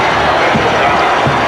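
A Texas football stadium crowd of 65,000 at a 1983 Texas Longhorns vs TCU college game roars loud and unbroken, a dense wall of cheering noise.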